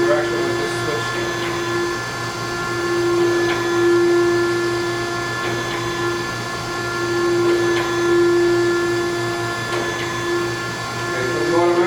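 An Okamoto high-precision surface grinder with a high column runs with a steady mechanical hum and a sustained tone as its saddle travels, swelling and easing in cycles, with someone talking over it.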